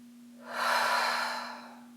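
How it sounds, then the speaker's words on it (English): A single deep, slow breath out during a guided calming exercise, a soft airy rush that swells and fades over about a second, close and unhurried, with a steady low hum underneath and no talking. "I want you to take a deep breath out."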